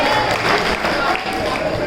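Dense audience applause greeting a poet at a children's poetry gathering, a continuous loud roll of many hands clapping together without pause.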